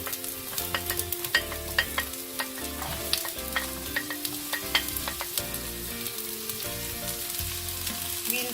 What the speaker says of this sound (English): Now I'll be adding the onions.